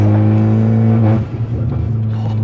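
An Abarth Punto Evo SS engine revving, a loud, steady exhaust drone that drops off sharply midway and then settles into a rougher, lower rumble.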